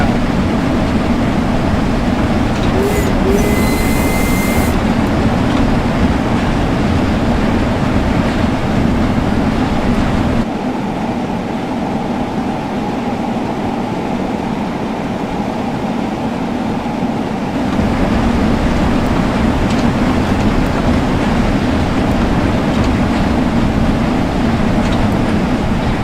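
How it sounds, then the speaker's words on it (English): A steam train in Train Sim World runs loudly and steadily in a continuous mechanical roar and chuff that dips briefly before returning, with no voices over it. "The train is very loud."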